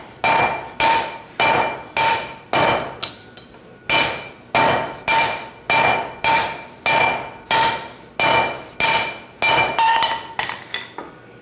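Blacksmiths hammer metal to flatten it at a smithing conference, about a dozen loud, evenly paced ringing hammer blows on an anvil, close and clear, slowing and softening at the end.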